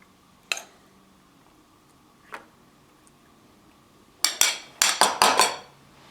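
Lasagna meat filling spooned into a baking dish: a couple of isolated metallic clinks, then a quick burst of several sharp scraping taps of spoon against the dish, close and clear.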